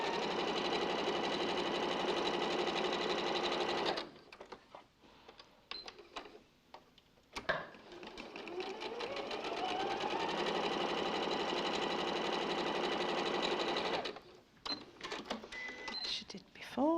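Sewing machine running steadily while stitching quarter-inch seams on a quilt block, with a continuous motor whir that stops briefly in the middle, where quiet talk is heard, then starts again.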